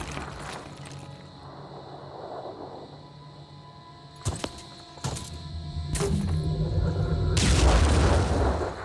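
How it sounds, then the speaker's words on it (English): Explosions in the video game Phoenix Point: three sharp, loud booms land about a second apart, then a heavier rumbling blast swells near the end over a steady game background. "exploding these dudes to death here"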